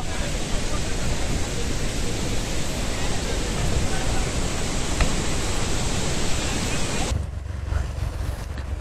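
Water spray from the Srisailam Dam drifting down like rain, a loud steady broadband roar and hiss that holds for about seven seconds before dropping off sharply into a quieter wash.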